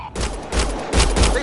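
Several loud gunshot bursts in Mass Effect Andromeda, three heavy thumping volleys in quick succession over a short span, close and punchy with no talk over them.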